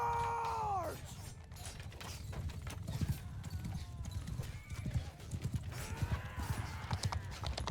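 Cavalry horses gallop in a charge in the video game Mount & Blade II: Bannerlord, with a loud, dense stream of hoofbeats and a whinny at the start and another near the end.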